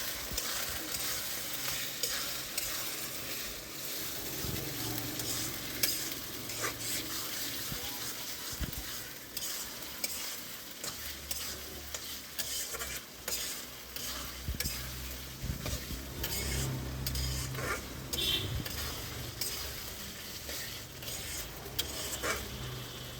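Spices and ginger paste being stirred and sautéed in a pan, a quiet continuous sizzle with scraping and clinking of a spatula, faint talk now and then.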